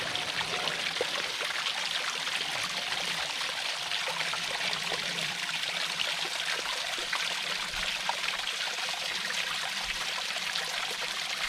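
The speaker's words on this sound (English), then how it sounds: "like a little waterfall, guys." Small waterfall stepping down a creek beside a trail campsite, a steady close trickling and splashing rush that continues evenly throughout without voices.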